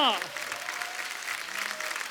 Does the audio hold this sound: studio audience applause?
yes